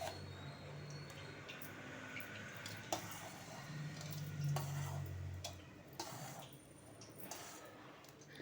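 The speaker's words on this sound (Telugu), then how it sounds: "ఇప్పుడు బూరెలు వేచేస్తాను" Sweet boorelu dumplings fry in hot oil for Varalakshmi puja prasadam, a soft steady sizzle with occasional light clicks and taps, quiet and close.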